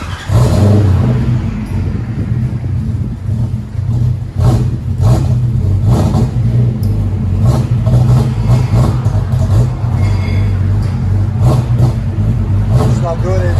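A 1993 Lexus SC400 V8 with dual exhaust and the mufflers deleted, its engine throbbing loud and close in a steady low rumble with repeated throttle blips, and voices talking over it.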